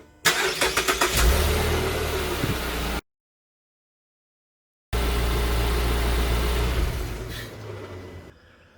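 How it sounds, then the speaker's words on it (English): Mazda CX-5 engine starting after an oil change, a loud crank and catch settling into a steady idle, then a gap, then the idle running on again before fading. "Run the car for about 15 seconds and just make sure that I don't have any leaks."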